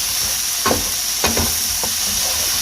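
A spoon stirs teriyaki shrimp fried rice in a hot pan under a constant sizzle, with two or three distinct scraping strokes standing out nearby and no voices.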